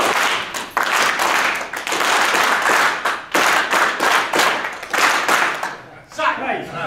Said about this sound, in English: I think we just need to clap him out, though